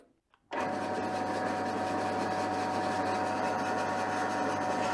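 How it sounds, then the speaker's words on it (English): A pillar drill starts up at about half a second and keeps spinning a bent steel stud as a makeshift lathe, giving a steady, loud motor whine and hum with no break until the end. "turn the pillar drill into a makeshift lathe"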